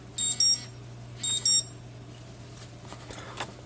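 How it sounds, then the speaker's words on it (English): An alarm clock set for five in the morning goes off indoors with two short bursts of rapid high-pitched electronic beeping, each about half a second long and close and loud, followed by quieter rustling and handling noises over a steady low hum. "Don't you love it when you beat your alarm clock?"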